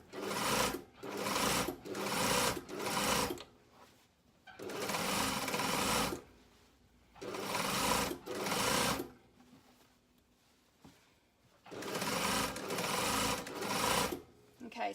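A domestic sewing machine stitching rows of shirring on a jumpsuit runs in quick, steady bursts of a few seconds each, separated by short quiet pauses, close and fairly loud.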